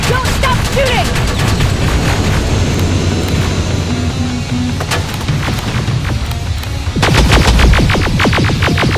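Gunfire in the Terminator Resistance video game, with a dense fusillade of rifle shots and rapid bursts under game voices, ending in a loud burst of repeated shots.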